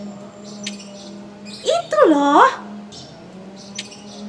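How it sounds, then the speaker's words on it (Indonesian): Birds chirp outdoors on a bright, sunny day: a short burst of sweeping, warbling calls rises briefly and then fades, with a person speaking briefly over a faint steady background hum. "ada suara burung yang berkicau"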